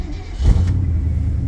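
A four-wheel-drive truck engine cold-starts with the choke on, a brief loud catch and burst of revving settling into a rough, rumbling idle close by.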